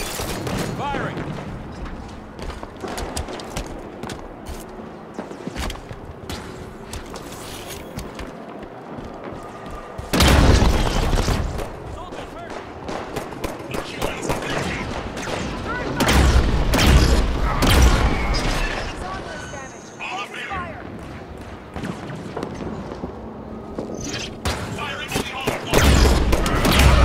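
Gunfire and booming blasts in the Halo 5 Guardians video game: dense volleys of shots and heavier explosive thuds running throughout, with loud surges, and voices speaking at times amid the firing.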